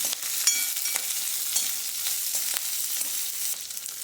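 Green chillies and chopped onion sizzle steadily in hot ghee, a dense close crackle with scattered sharp pops and occasional stirring scrapes, with no voices.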